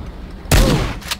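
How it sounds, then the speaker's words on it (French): A single shotgun blast in the Worms video game, a sudden loud boom with a short rumbling tail after a quiet lead-in, followed by a faint second burst of noise. "Coup de fusil à pompe."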